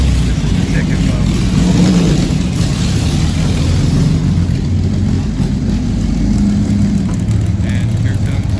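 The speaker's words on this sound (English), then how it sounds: "And here comes the C-Type right behind." A Jaguar C-Type race car drives past at a classic car club finish line, a steady mid-pitched engine rumble holding close and loud throughout, with crowd chatter underneath.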